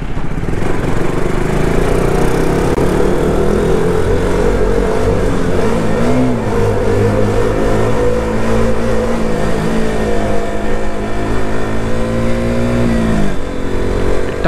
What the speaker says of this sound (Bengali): এখানে আমরা অন্য একটা টানেলে এখন ঢুকতে চলেছি